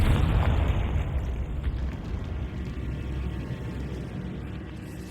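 Confringo fire spell from Hogwarts Legacy erupts in a loud, close blast whose rumbling roar fades slowly into a sustained low crackle and rumble.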